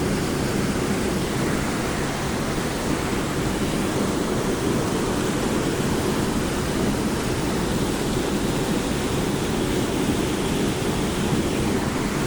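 Floodwater rushes with a dense, unbroken roar under a river bridge where everything is submerged, loud and steady throughout, with no voices heard.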